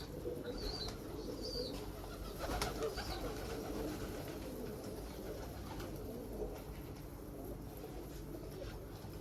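Soft, low fantail pigeon coos murmur amid outdoor background noise, with a few faint bird chirps and a brief flutter of wings.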